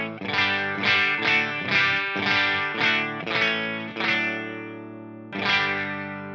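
An electric guitar through a Line 6 Helix Orange Rockerverb 100 MkIII amp model with the drive turned low rings out in a series of strummed chords at edge-of-breakup crunch, each left to sustain, alone and fairly loud.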